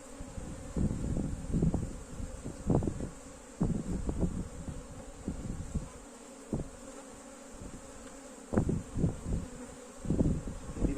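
Honeybees buzz steadily around an opened hive as it is worked to remove queen cells, a continuous close drone with louder passes of individual bees flying near, alongside occasional handling noises.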